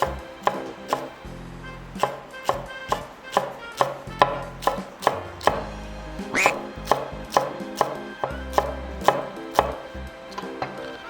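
Knife chopping green onion into thin slices on a board, a crisp steady rhythm of about twenty close, sharp cuts with brief pauses, no talking.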